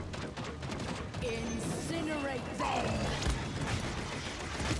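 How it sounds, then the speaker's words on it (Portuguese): Gunfire in the hero shooter game Paladins, rapid mechanical clicking shots and ratcheting weapon sounds repeating over a busy game background, with chirping effect tones sweeping through. "eles ficam de lado dando tiro aqui, infinito"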